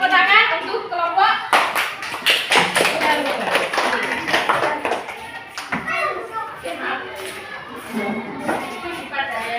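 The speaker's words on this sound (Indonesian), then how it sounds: "Tepuk tangan untuk kelompok" Schoolchildren in a classroom clap for a group, a burst of close, scattered applause with many hands, overlapping with children's chatter and fading into talk.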